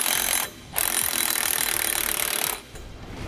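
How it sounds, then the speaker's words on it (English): A power tool drives lock nuts onto carriage bolts with a 9/16 socket while Air Lift LoadLifter 5000 air helper springs go onto a 2017 Ford truck. Two loud, steady whirring bursts are separated by a short pause, with no talking. "We'll then tighten those down using a 9/16 socket."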